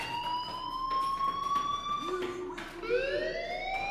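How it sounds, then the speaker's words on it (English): A fire alarm wails in the video game Life Is Strange, a loud siren tone sweeping up and down continuously, close and alone. "do you hear that fire alarm? That means you should be outside."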